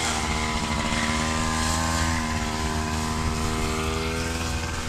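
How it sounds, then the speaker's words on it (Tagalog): Grass cutter running nearby, a loud steady two-stroke engine whine with a buzzy harmonic drone that holds constant from start to finish, no talk. "Ay, ginagrass cutter pa yung pinakapagitan."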